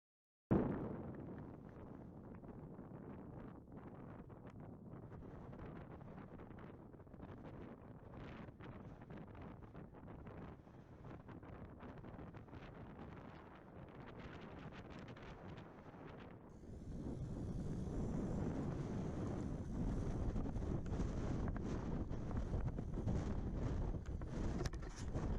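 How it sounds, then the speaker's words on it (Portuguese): Strong wind buffets the microphone on the island plateau of Selvagem Grande, a constant roaring rush that grows louder and fuller for the final stretch. "Muito vento, como se ouve, portanto, a implicar uma boa ancoragem dos mastros."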